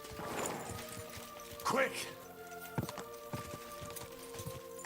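Horse hooves from the video game Kingdom Come: Deliverance II clip-clop in short bursts at close range. Someone talks over them and briefly calls out.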